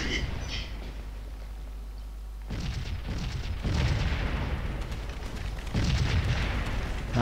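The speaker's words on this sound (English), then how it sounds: "Now he has set up his cannons really well, so he is dominating the battlefield." Cannon artillery fire in the Civil War battle game Scourge of War Gettysburg, heavy low booms rolling under a steady din of battle, with a spoken voice over parts of it.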